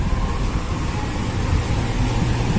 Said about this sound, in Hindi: देखिए अभी मोटर ऑन करता हूँ।